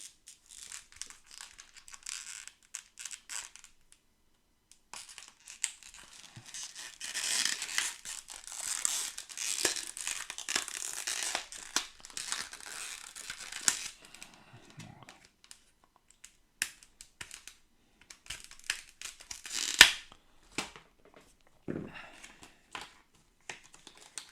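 Crinkling and rustling of a card game expansion package being opened, with sharp snaps and tape tearing, close and intermittent, building to a busier stretch in the middle.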